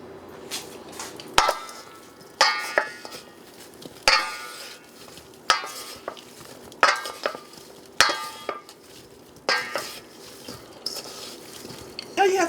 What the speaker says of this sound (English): So let's just stir that all up